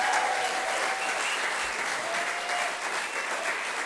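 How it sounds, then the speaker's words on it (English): Theatre audience at a charity singing concert giving another round of applause, thick continuous clapping from a full house with faint whistles over it. "Yeah, go on, give another round of applause."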